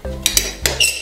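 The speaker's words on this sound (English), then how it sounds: "I almost feel terrible for cutting up this awesome waffle" Cutlery clinks and scrapes against a plate while a Super Mario mushroom waffle topped with whipped cream is cut up, four short sharp metallic taps over a low steady hum, close and clear.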